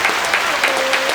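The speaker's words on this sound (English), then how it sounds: "Round of applause." A short burst of clapping from a small group at the close of a podcast episode, brisk and close with some voices mixed in, lasting only a moment.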